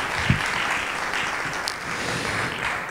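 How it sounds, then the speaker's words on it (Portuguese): Audience in an auditorium at a spoken-word final applauds steadily, a dense wash of clapping at fairly loud level, with no talk. "Uma grande salva de palmas para o André, se faz favor."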